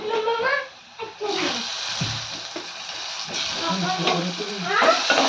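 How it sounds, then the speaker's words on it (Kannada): Tomatoes frying and being stirred in a pan while pulihora is cooked give a steady, close sizzle with scraping stir sounds, and a voice talks over it throughout. "ಈಗ ನೋಡ್ರಿ ನಾನು ಟೊಮೆಟೊ ಹಾಕ್ತಿದ್ದೀನಿ"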